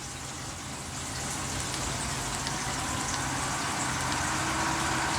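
A hygger aquarium chiller's fans run at top speed, giving off a steady, fairly loud whir like a computer fan going flat out, with a soft broadband hiss that swells slightly and then holds constant.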